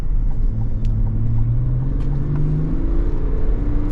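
A GMC Yukon engine revs steadily toward its redline, a loud continuous rumble rising smoothly in pitch over a few seconds, heard from inside the vehicle with no talking.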